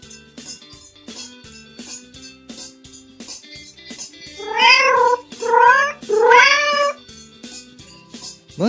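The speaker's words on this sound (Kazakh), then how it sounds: "Мысық." A cat gives three clear, close meows in a row over a quiet background of soft music with a steady beat, and one more meow begins right at the end.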